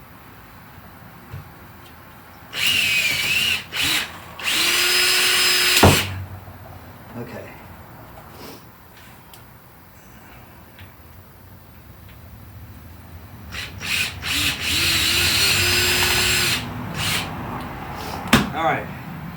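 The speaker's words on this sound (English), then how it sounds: "Now this is a 6mm drill." A handheld drill with a 6mm bit bores holes for rivet nuts on an aircraft vertical stabilizer, in several short high-pitched whining bursts separated by pauses, with a brief spoken word in between.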